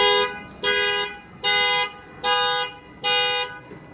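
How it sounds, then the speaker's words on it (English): The factory alarm on a 2020 Lexus RX 350 goes off after the window is banged, sounding five loud, evenly spaced horn honks with short silent gaps between them. "I'm going to go ahead and bang on the window, and that will fire off the alarm"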